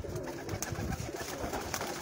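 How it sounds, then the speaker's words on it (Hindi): A golden pigeon coos softly in a loft, a short low murmuring call heard close amid light background noise, with no one speaking. "बड़ा खूबसूरत और नयाब कबूतर है"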